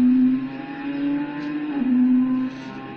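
A smart speaker plays a recorded car engine, a steady, loud droning hum that swells slightly as if revving for about three seconds, with no voices.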